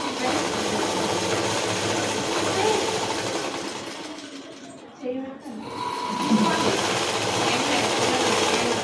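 Sewing machine running steadily as it sews a double stitch on a collared blouse, a continuous mechanical whir with brief slowdowns, close and fairly loud throughout.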